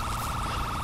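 A police car siren wails in the game GTA 5, a loud, steady, rapidly warbling electronic tone that fills the whole moment, close by and continuous.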